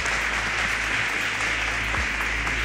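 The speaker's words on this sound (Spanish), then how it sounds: "vamos un último aplauso" Audience applause for a professor at the close of an education conference talk, a steady, dense wash of clapping held at even level throughout with a low hum underneath.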